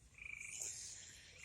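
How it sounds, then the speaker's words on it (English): Outdoor frogs give a dense, high trilling chorus that holds steady and fairly faint for the whole moment, with no voices. "Frogs are back here croaking now."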